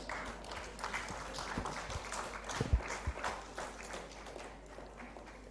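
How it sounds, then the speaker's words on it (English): Quiet, scattered applause from a conference audience during a plenary session, soft clapping heard from a distance with a few louder taps and shuffling. "may we please have a round of applause"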